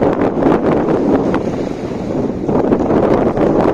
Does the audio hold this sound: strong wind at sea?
yes